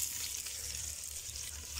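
Onions frying in a pot give a steady, fairly quiet sizzle with a low background hum, continuous and without distinct stirring strokes or voices.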